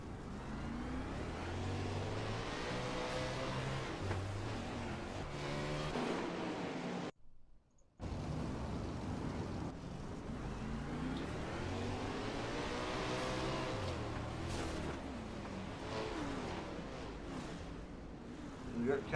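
360 sprint cars racing on a dirt track, engines revving and roaring past in waves under steady commentary, with a brief drop-out partway through.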